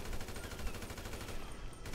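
Rapid gunfire in GTA Online, a sustained string of shots in close succession, loud and continuous, with no talk over it.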